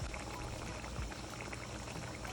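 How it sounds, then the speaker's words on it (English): Water poured into a pot of cooking tripe and beans with all-purpose seasoning, a continuous splashing, bubbling wash of liquid, close and steady for a couple of seconds with no talking. "I'm just going to add a little more water with some all-purpose seasoning in that"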